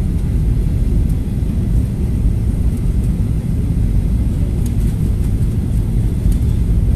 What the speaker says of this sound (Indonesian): Ini kita akan mulai mendarat, guys.